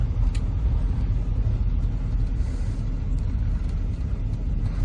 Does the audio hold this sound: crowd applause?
no